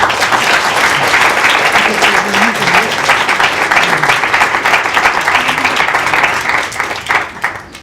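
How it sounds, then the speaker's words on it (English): Sustained audience applause fills a lecture hall at a professor's valedictory event, dense steady clapping from a large crowd welcoming a speaker, holding loud for several seconds before thinning slightly at the end. "Please, a round of applause."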